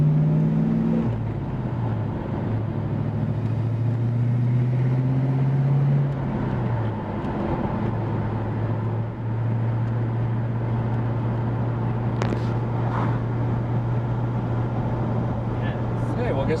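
A 1986 Ford Mustang Fox body engine idles steadily and close by with a low, constant drone, a brief blip early on, and people talking over it.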